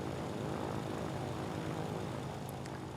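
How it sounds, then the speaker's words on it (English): Bristol Blenheim propeller plane taking off in Ground of Aces, a WW2 aerodrome builder game; a dense, steady engine and propeller roar, loud and continuous with no voices. "there goes the Blenheim"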